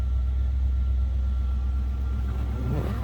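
A 350 V8 engine in a 1976 Buick Century Custom Wagon idles smoothly and steadily, a low continuous rumble with no talking.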